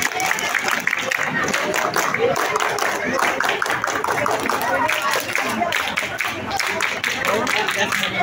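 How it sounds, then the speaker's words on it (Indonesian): A group of Indonesian scouts at a large Siaga cub scout rally claps in unison, dense and continuous across the whole stretch, with crowd voices mixed in throughout. "Tiga kali tepuk pramuka."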